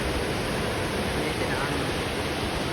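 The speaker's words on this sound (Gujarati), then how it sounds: "આ બાજુ પાણીનો અવાજ આવે" A constant, dense roar of water rushing at Dantiwada Dam, loud and unbroken, like a torrent pouring nearby.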